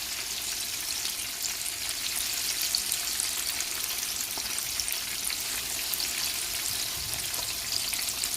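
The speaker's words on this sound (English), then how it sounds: "I'm going to add my peppers here." Peppers frying in a pot of oil for yam porridge, a steady broadband sizzle and crackle that stays even and close throughout, with no voices.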